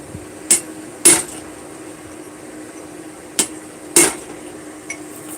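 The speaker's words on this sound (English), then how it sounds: "Right now I'm just using just a little handheld punch." Metal strikes from a hammer on a small handheld punch made from a cold chisel, its tip flattened: four sharp, ringing taps at irregular spacing, close and clear over a quiet background, with a fainter tap near the end.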